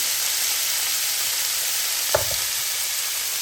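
Ingredients, including meat and onion, sizzle and fry steadily in a pan, with a brief utensil knock partway through, close and even.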